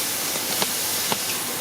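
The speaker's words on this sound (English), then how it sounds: "I'm going to add a little bit of water here. It's going to be drying out. Keep your face back. You're going to have a lot of steam." Steam hissing from a hot pan of fettuccine as a little water is added, a loud continuous spray-like hiss with a couple of brief crackles, heard alone.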